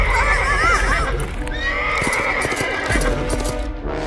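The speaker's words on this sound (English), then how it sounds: "Go ride a horse." A horse in the Roblox game Brookhaven neighs loudly with wavering whinnies, followed by clip-clopping hooves and other game sounds, close and prominent.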